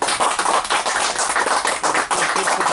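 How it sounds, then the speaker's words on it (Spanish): Audience applause at a talk, a dense burst of many hands clapping, loud and close throughout. "Un aplauso, gracias Juan Cristóbal"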